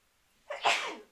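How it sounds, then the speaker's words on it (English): A single close sneeze, a sharp intake followed by a breathy burst, in an otherwise quiet room. "I'm going to sneeze. It's this room."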